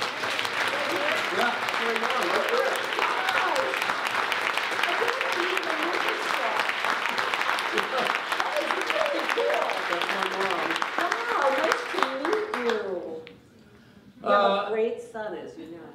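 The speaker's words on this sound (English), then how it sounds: "I must applaud my mother." Loud, dense applause from an audience at an opening ceremony honoring an author, held for the speaker's mother, runs for about twelve seconds and then dies away as a person speaks, and a few quieter exclamations follow.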